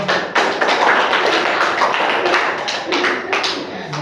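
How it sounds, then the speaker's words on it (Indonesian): Classroom applause for a classmate, many students clapping together in a dense, loud patter that holds steady for several seconds at close range. "Kasih tepuk tangannya untuk temannya."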